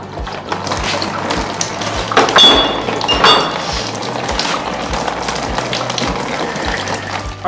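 Water drains steadily from a 10-gallon camper water heater, a constant close gushing and splashing that holds an even level throughout with no pauses.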